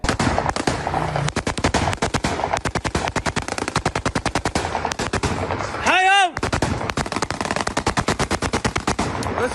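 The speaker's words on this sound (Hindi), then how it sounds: "देखिए इन गोलियों की तड़तड़ाहट को आप" Rapid gunfire in Damascus, with long bursts of closely spaced, loud, sharp shots hammering almost without pause for the whole stretch, broken by one brief whistling, rising tone midway.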